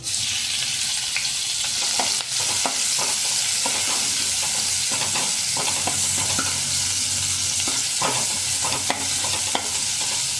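Cut chillies crackle and sizzle in hot oil with asafoetida nonstop, broken by repeated clicks and scrapes of a spoon stirring the pan, up close.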